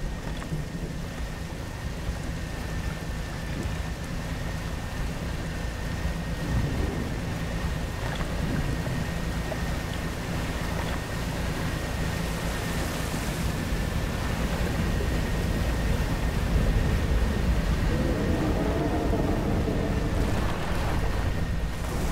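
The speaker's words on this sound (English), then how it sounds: "Interesting how because of how the rain works," Steady rain in the fishing game Dredge pours down continuously over a low, rumbling wash, with no voices.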